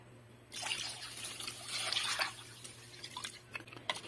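Water pours into a cooking pot for boiling pork hock with mung beans, a close splashing trickle that starts suddenly and runs on unevenly.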